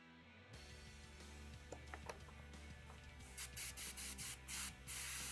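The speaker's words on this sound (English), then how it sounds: "Gotta let it spray through the white anytime you're changing colors." An airbrush sprays paint onto a painted miniature in a series of short, loud hissing blasts, each cut off cleanly. Faint mechanical clicks and rubbing sounds fall in the quieter stretches before the bursts.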